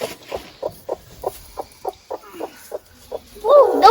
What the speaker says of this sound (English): That's a broody chicken. She's not happy with us.